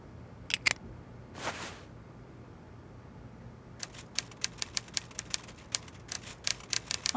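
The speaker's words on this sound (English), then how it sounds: "he seems to be typing up quite a storm" Typewriter being struck behind a locked door in a seaside hotel, an early burst of keystrokes, a pause, then a brisk run of evenly spaced clacks, moderately loud against a quiet background.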